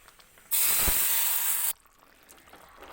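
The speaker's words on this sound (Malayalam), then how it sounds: "കടുക് പൊട്ടി തുടങ്ങുമ്പോഴേക്കും കറിവേപ്പിലയും കൂടി ഇട്ട് കറിയിലേക്ക് ഒഴിക്കാം." Mustard seeds and curry leaves crackling in hot coconut oil as the tempering is poured into a mango curry give a sudden loud hissing sizzle lasting just over a second, then it cuts off to quiet background.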